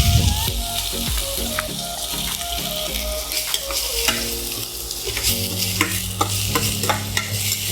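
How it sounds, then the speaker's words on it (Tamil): Onions and curry leaves saute in hot oil after popped mustard seeds and fenugreek, for pachai mochai kuzhambu. A close, steady sizzle runs throughout, broken by occasional stirring scrapes, with no one talking. "இது நல்லா வதங்கிடுச்சு வெங்காயம்."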